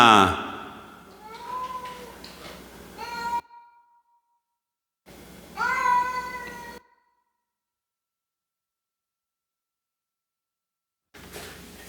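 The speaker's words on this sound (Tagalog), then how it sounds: "Gusto lumabas yung aking alagang cat." A pet cat meows insistently to be let outdoors, giving two drawn-out, wavering cries close by. Silence follows, then a brief sound near the end.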